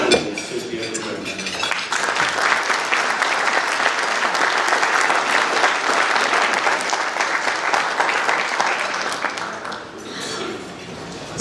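Sustained audience applause from a room of conference attendees at a 2017 legal education event, loud and dense, welcoming a speaker to the stage and tapering off near the end.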